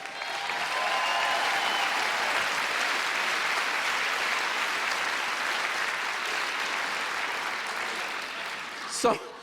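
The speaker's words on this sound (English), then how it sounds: "You all give Susan a big round of applause." A crowd applauds loudly and continuously for several seconds, a dense wash of clapping that tapers slightly before ending with a brief bump.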